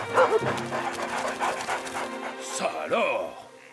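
Cartoon dogs panting and whimpering in an animated children's adventure, the breathy panting running steadily under busy music and character voices, with a short whine near the end.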